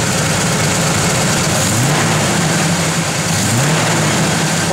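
A 1972 Chevrolet Nova with a pump-gas engine heard from inside while driving, a steady loud drone with low rumble and a couple of gentle rises in pitch as it accelerates, no talking.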